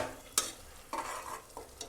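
Blended biryani masala frying in a pan, with a soft sizzle and a few spoon-stirring scrapes at irregular intervals, close and fairly quiet, with no talking.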